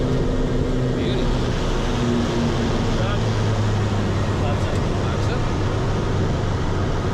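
Steady, loud engine and propeller drone of a turboprop airplane crossing the runway threshold at about 100 knots and flaring to land, a continuous cabin roar with little change throughout.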